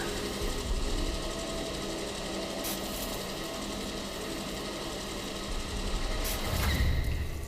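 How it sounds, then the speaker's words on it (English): A sample grinder in the video game Atomfall grinds and filters with a steady, dense mechanical whirring that runs the full length, with a louder rumbling surge near the end. "Transporting extracted sample to sample grinder."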